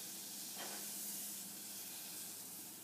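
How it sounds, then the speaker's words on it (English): Half a teaspoon of butter sizzles in a heated pan, a steady, close hissing crackle with a brief burst of spattering near the start, continuing evenly with no talk. "Ooh, listen to it sizzle."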